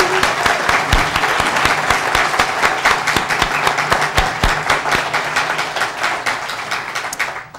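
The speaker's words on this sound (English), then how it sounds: "Bill, give a round of applause." A lecture-hall audience at a journalism and politics event breaks into sustained, dense applause, many hands clapping steadily and loudly throughout, tapering slightly near the end with no speech over it.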